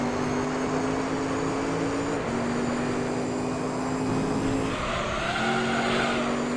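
Tires squealing and sliding in a Gran Turismo 3 A-Spec professional FR race, a continuous loud engine drone with a sustained skid tone that shifts pitch partway through, steady and close without pause.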